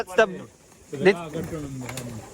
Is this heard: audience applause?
no